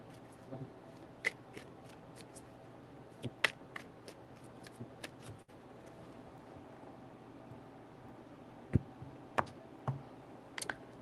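Tarot cards being handled during a shuffle, a scatter of soft, sharp clicks and taps spread unevenly through a quiet room, with a small cluster near the end.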